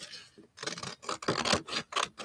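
Scissors snipping a sheet of paper in half during a rabbit craft project, a quick series of about six crisp, close cutting strokes, each a short scratchy burst with brief pauses between.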